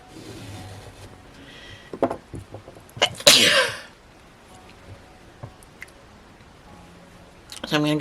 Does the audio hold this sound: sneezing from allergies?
yes